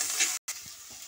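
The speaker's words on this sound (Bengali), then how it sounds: "এরপর পেঁয়াজ কুচিটা দিয়ে ভালো করে এটা নাড়াচাড়া করে নেব" Chopped onion and tomato frying with potatoes in a pan for a Bengali okra and small fish dish, a steady close sizzle broken by a brief silent gap, then softer frying with light stirring scrapes.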